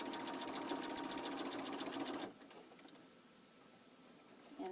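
A sewing machine stitching binding onto a quilt runs in a fast, even needle rattle for about two seconds, then stops abruptly, leaving a quiet room with faint handling noises.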